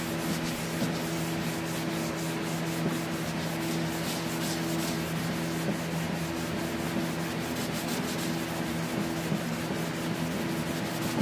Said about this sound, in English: we're going to take shop towel. We're going to wipe away the excess.